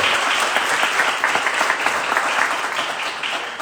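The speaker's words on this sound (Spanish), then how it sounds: "Entonces, nosotros, den un aplauso al Señor." A church congregation at a Spanish-language service applauds, a steady wash of many hands clapping throughout, fairly loud and close.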